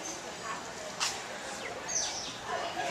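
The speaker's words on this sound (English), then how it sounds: "It's kind of like birds everywhere around here." Birds around an outdoor restaurant give faint, scattered chirps and tweets over a soft, breezy background hiss.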